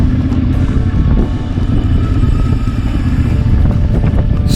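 A CFMOTO Ibex 450MT motorcycle rides off-road with a loud, constant engine drone and heavy wind rumble, close and continuous throughout.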